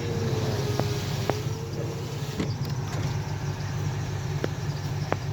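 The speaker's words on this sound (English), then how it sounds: "Nice sounding truck." A Ford F-150 pickup truck engine runs at a steady idle, a low continuous rumble held at even loudness throughout, with a few faint clicks on top and no talking.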